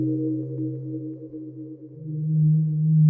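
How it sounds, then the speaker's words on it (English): A synthesized triangle-wave tone holds steady and fairly loud on its own for about three seconds, its pitch stepping up slightly near the end, with soft hollow overtones above the fundamental. "The triangle wave."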